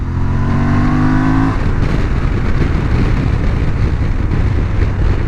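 An adventure motorcycle, an Aprilia Tuareg 660 or Honda Transalp 750, revs loudly up the range with a steady climbing engine tone, then gives way to a dense roar of engine and wind while riding, with no voices.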